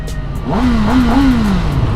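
A stock-exhaust superbike engine, 2021-era litre-class, revs up and holds a steady mid-pitched drone before easing slightly, loud and close with no talk.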